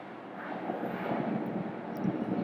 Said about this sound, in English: I have a lot of planes flying around at where I stay right now